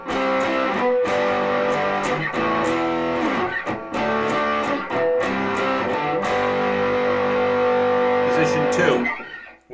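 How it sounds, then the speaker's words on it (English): A Donner DST-152 electric guitar played through its middle pickup with distortion switched on, ringing out sustained, gritty chords and notes loud and close, with brief pauses between phrases before fading out at the end. "Let's hear what it sounds like through all of the settings with distortion on."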